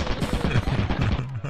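Automated turret fire in the Lethal Company game, a loud, dense, rapid burst of machine-gun shots rattling continuously for a second and a half, close and dominant with no talk over it.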